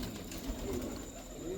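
Racing pigeons coo softly in a low, rounded murmur over a steady background hum, close by and brief, with no speech.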